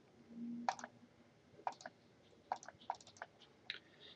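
Quiet, crisp computer mouse clicks on an attach button, about five or six separate clicks spaced irregularly across a few seconds against near silence.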